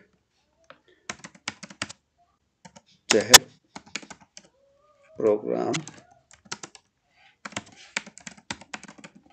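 Computer keyboard typing a remark into an approval form in the PFMS government payment software, with scattered light key clicks throughout and two louder bursts of activity; a person speaks over the typing.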